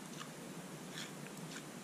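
Crunchy bites into fried fish from a fish and chips meal: a few soft, crackly crunches close to the mouth, spread over two seconds, with no talking.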